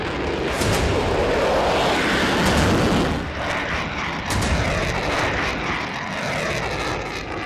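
A roaring F-16 fighter jet engine fills the air loudly and steadily, swelling to a peak and then easing slightly, with rumbling low-end turbulence and no voices.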